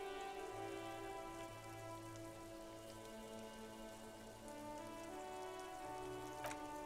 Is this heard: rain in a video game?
yes